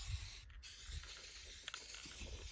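Spray paint hisses onto a shooting target at a range in a soft, steady, faint spray with a brief sharper burst partway through.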